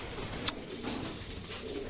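Soft, low pigeon coos murmur in the background, with a brief sharp click near the start.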